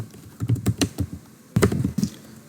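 Close, crisp keystrokes on a computer keyboard in two quick bursts of typing separated by a short pause, with no voices.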